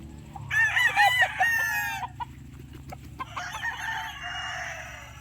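Sweater over Black Boston gamefowl stags crow close by, with one full crow followed by a second overlapping crow from another bird.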